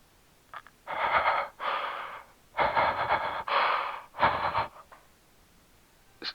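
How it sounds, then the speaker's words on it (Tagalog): Faint, raspy breathing comes over a phone line, five or six slow wheezy breaths in and out with short pauses between them, heard alone in quiet. "May naririnig lang ako. Mahinang paghinga."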